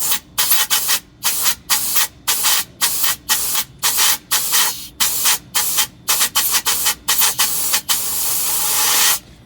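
Air released through a manual bleed valve comes in loud, rhythmic hissing bursts, roughly two per second, separated by brief silences, then merges into one long continuous hiss near the end.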